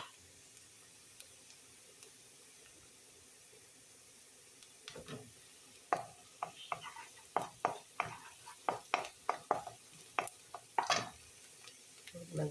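Food being sautéed in a pan gives soft background sizzling, then a run of sharp utensil scrapes and clinks against the pan, irregular and fairly close, with no talk.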